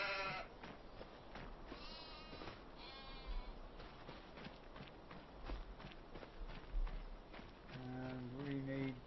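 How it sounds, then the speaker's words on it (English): Sheep on a Montana farm bleat in several quavering calls, fairly faint and spread out, with hoof and footstep scuffs and low rustling between them. "And that gives us some sheep."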